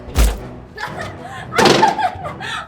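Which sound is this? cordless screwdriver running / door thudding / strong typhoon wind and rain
door thudding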